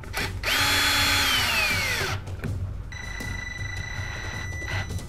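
A power drill tightening a metal clamp onto a pipe for a rocket launch base, with a loud whirring burst that slows as it tightens, then a second steadier whine.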